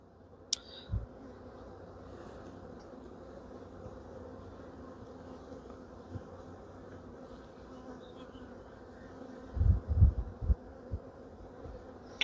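A dense, steady hum rises from honeybees swarming around an open hive, carrying on without a break, with a few soft thumps and handling noises near the end.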